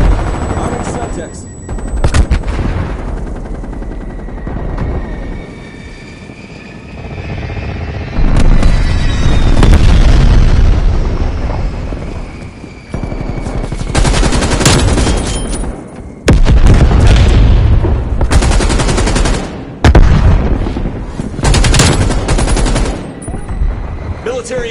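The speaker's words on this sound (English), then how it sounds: "Hostile strafe run inbound." Strafe-run gunfire and explosions in Call of Duty: Black Ops Cold War: loud, dense bursts of machine-gun fire and booming blasts, with quieter stretches and a few short lulls between them.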